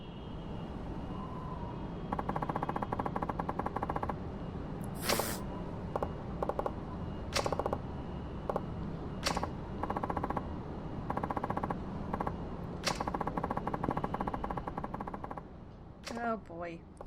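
Repeated bursts of gunfire in the Yakuza 4 video game, sharp shots and rapid volleys in clusters over steady game background sound, with a voice talking at times.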